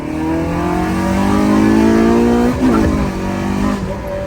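A car engine roars loudly launching hard from second gear, the pitch climbing steadily, then briefly dipping at a gear change before pulling again.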